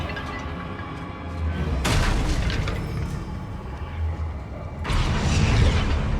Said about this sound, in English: Wingardium Leviosa!